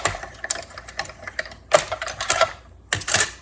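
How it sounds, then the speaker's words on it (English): A die cutting machine cuts card stock for handmade fishing-themed cards, giving bursts of clattering, rattling mechanical noise close by, with quieter ticking between and two louder runs near the end, no speech. "we're gonna go ahead and die cut these"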